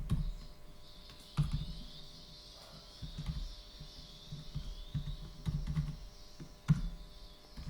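Keys tapped on a computer keyboard while text is entered into a PowerPoint slide, a few scattered clicks and short bursts over a steady background hum, fairly close.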